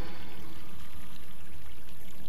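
Water pours and runs steadily onto a floor in BioShock Infinite, a continuous loud splashing stream with no talk over it.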